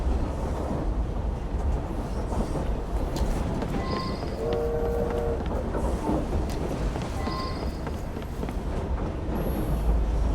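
A train rolls along rails in Assassin's Creed Syndicate, a steady broadband rumble with faint tonal squeals or a distant horn, no speech.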